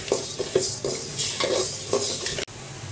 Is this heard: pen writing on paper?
no